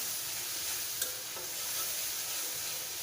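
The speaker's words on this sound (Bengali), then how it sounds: "পেঁয়া মশলাটাকেও ভালোভাবে কষিয়ে নেব" Ginger-garlic and cumin paste with chopped green chillies fries in oil for a chicken and taro curry, giving a steady close hiss of sizzling with a faint stir partway through.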